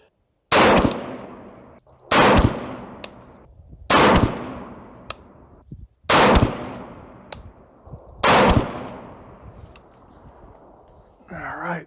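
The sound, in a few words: rifle gunshots fired in five-shot groups with Primary Arms GLX 2x prism scope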